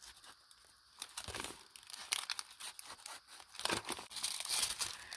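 Paper envelopes are torn open by hand up close: bursts of ripping and crinkling come in uneven rhythm, with short pauses between tears and louder rips toward the end.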